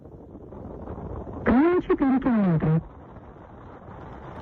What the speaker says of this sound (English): The navigation in the car, I think.